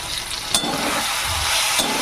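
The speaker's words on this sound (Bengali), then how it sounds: "মশলার সঙ্গে ভালো করে কষে নেবো টমেটো" Tomato cooking down with spices in a hot pan gives a steady broadband sizzle, with a couple of sharp stirring scrapes against the metal over two seconds; no voices.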